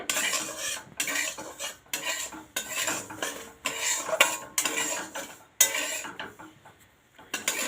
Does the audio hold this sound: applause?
no